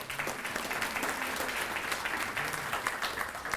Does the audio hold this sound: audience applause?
yes